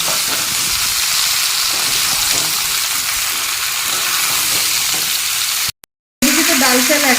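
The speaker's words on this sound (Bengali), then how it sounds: "ফুলকপি আলুটাও দিয়ে দিলাম দিয়ে এবার ভালো করে নাড়াচাড়া দিয়ে দিয়ে ঢাকা দিয়ে ভেজে নেব" Cauliflower and potatoes frying and being stirred in a pan, a loud, steady sizzle with scraping stir strokes throughout, briefly cut off near the end before resuming.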